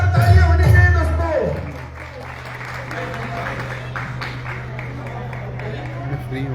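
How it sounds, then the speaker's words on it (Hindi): An audience at a satsang gathering gives loud, sustained applause that swells and then settles into steady clapping and crowd murmur, with a voice speaking at the start. "सुनील भाई के लिए जोरदार तालियां होनी चाहिए दोस्तों।"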